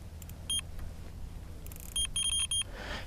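A fishing bite alarm gives a single short beep, then a quick run of several high electronic beeps over quiet outdoor background noise.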